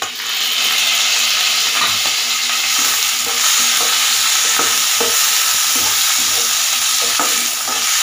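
Tomatoes and green chillies frying in oil in a pan, stirred steadily: a continuous loud sizzle with repeated scraping strokes of the spoon throughout, no voices.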